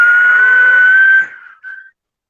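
A loud, clear silbo whistle from the Canary Islands' whistled language, one sustained high tone held for over a second and then dropping, followed by a short second whistled note, with no talk over it.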